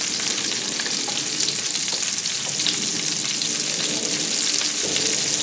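Prepared pearl onions and shallot fry in a pot for a Coq au Vin, a dense, even sizzle holding steady throughout, close and loud with faint stirring underneath and no talk.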